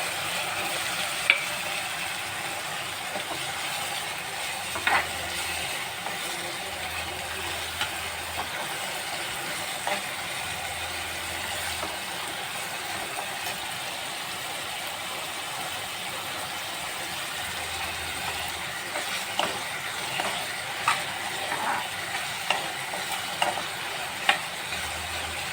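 Dry prawns and tomato fry in a pan while being stirred, a steady close sizzle with intermittent scraping and light clinks of the spoon, no voices.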